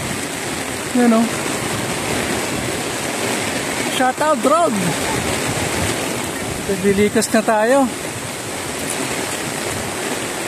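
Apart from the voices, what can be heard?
heavy rain and rushing swollen river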